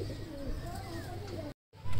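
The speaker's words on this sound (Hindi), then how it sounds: "बहुत दिनों बाद मेरे छत पर कबूतर आया है" A pigeon coos from a home rooftop in a steady low murmur, the calls close and fairly loud against background noise, with a brief silence before the sound resumes.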